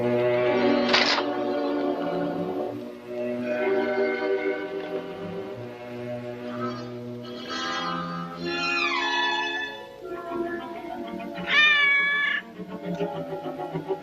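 A cat meows repeatedly in a 1943 Sherlock Holmes film, several drawn-out, rising and falling cries in sequence, clear and fairly close amid a quiet interior.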